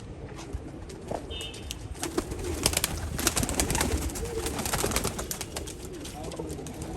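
Saharanpuri pigeons coo softly nearby while wings flap in bursts, with a faint voice in the background.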